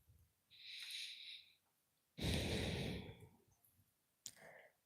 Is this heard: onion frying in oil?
no